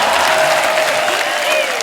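Loud, dense applause from a studio audience at a comedy talk show, sustained clapping close and uninterrupted throughout.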